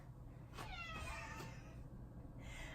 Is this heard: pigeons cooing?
no